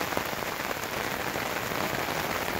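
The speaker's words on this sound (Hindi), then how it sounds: "ये देखिए मोटी मोटी बूंदे बारिश की पड़ रही हैं और बहुत ही तेज बारिश है।" Heavy monsoon rain with big drops pours down on a street in Nainital. It is a dense, unbroken, close hiss of drops hitting surfaces, with no talk.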